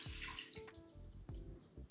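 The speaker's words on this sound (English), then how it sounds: "And we'll add some water to the pot." Water pours and splashes into a cooking pot for a traditional Hawaiian recipe, a soft, close run of gurgling splashes and drips with a few short pauses, with nobody talking.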